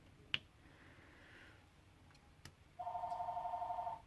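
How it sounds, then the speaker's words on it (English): A telephone rings with a steady electronic trill in a quiet room, after a couple of faint clicks and snaps, moderately loud and alone with no talk. "Yeah, it's just the phone."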